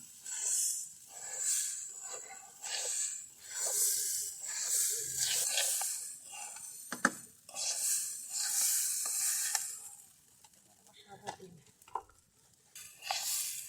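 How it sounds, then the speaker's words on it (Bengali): Rice frying lightly in oil in a pan gives a bright, steady sizzle, broken by repeated scraping stirs and a few sharp clinks of a utensil, with no talk. "এই যে আমরা চালটা হালকা করে ভেজে নিব।"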